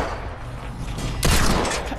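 A cannon fires in Fortnite Battle Royale on PS4, a single sharp, loud blast that rises suddenly out of a rumbling game background and rings on briefly.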